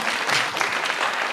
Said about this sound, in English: I think if you all clapped for me a little more